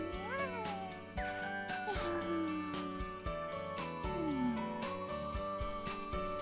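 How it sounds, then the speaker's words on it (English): A cat meows several times in a visual novel game, the cries set over a continuous game music track with sustained tones and soft chimes, with no speech. "A cat."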